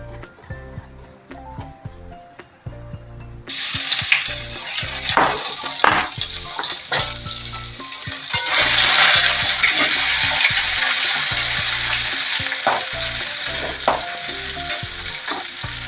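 Cumin seeds hit hot oil for black dal and burst into a loud, steady sizzle partway through, rising again later and holding as an even frying hiss with occasional crackles, alone without talk.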